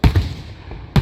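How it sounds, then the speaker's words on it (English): Fourth of July fireworks go off in two quick, sharp booms close together at the start, followed by a lull and then a third loud burst near the end, each with a rumbling low thud. "That one was a quick flash and an explosion"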